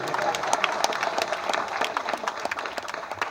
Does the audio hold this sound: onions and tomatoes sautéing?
no